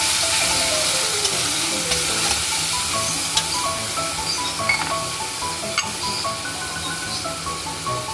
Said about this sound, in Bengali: তারপরে এটাকে ভালো করে নেড়ে নিলাম।